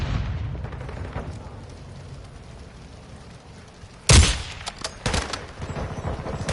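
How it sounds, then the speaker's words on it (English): In the Modern Warfare 2 video game, a flash grenade detonates with a sudden loud blast, followed by sharp bursts of close gunfire after a stretch of quieter background noise. "Throwing flash grenade."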